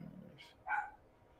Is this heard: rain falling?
no